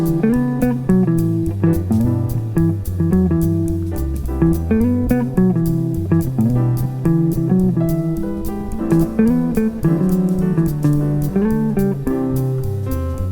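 Jazz guitar and band performing an arrangement in 4/4 time, with a steady swung groove, chordal and melodic lines over bass and drums, continuous and prominent with no talking.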